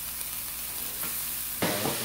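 Onions and peppers frying in a pan on a home stove give a steady close sizzle, jumping suddenly louder and brighter near the end as more goes into the hot pan.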